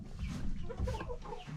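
Backyard chickens hatched in May cluck softly and close by, a short run of low, burbling clucks with no talk over them.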